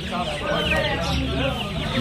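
Dense chorus of chicks cheeping at an outdoor poultry market in Nepalgunj, continuous high chirps layered with adult hens clucking and crowd babble, close and steady throughout.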